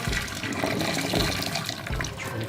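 Water pours out of a tipped pasta pot in a kitchen, a steady, fairly loud gushing splash that runs continuously for a couple of seconds without speech.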